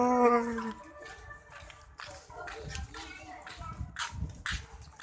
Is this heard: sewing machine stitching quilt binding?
no